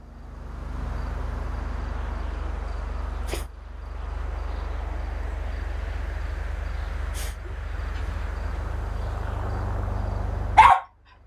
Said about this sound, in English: Don't you dare come in here, bark at me and then walk away